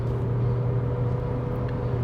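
Heard from inside the cabin, the 1.5-litre engine of an MG5 Pro car drones steadily under throttle, a continuous low rumble with road noise and no talking.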